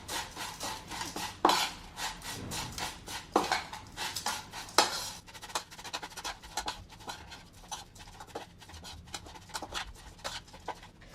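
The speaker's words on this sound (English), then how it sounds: "Now I'll mix both this Wai Wai, onion, chili, this leaf." Wai Wai instant noodles are tossed by hand with onion, chili and tender green leaves in a bowl, giving a busy run of close scraping, clinking and rustling, with sharper knocks from the utensil against the bowl.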